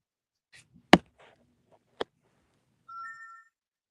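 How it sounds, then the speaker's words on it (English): A phone ringtone sounds briefly as a short run of bright electronic tones near the end, after a couple of sharp knocks and faint rustling in an otherwise quiet room. "Sorry for the phone, y'all."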